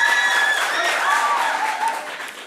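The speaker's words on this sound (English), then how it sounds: "A round of applause for them, please." An audience at a school quiz contest applauds the grade 9 team members; dense, steady clapping fills the whole stretch, close and fairly loud, with a faint voice mixed in.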